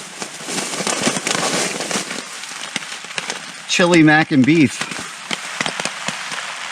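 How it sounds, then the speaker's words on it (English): Rain falls at a winter hammock camp in deep snow in the White Mountains, a dense, steady crackling patter close by, with someone briefly talking over it midway. "The rain is coming down pretty good"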